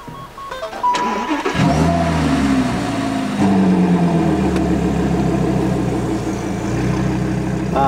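A car engine starts up in the mountains near Sölden, cranking then catching and settling into a loud, close idle with a couple of throttle blips, heard alone without talk.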